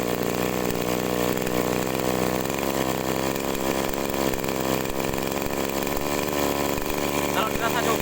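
A small agricultural sprayer engine that will not rev properly, throttled up from idle, gives a loud, steady buzzing drone with the pitch rising slightly as the RPM is raised, continuous throughout with no talk.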